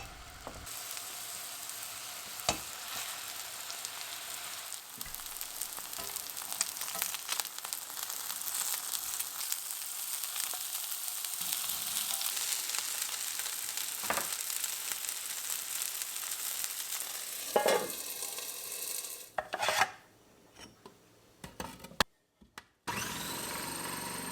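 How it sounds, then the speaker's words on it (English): Kofta sizzles steadily in hot vegetable oil on a heated cast iron pan, a dense continuous frying hiss with a few sharper pops and clatters near the end. "I'm going to fry on a heated cast iron pan with some vegetable oil."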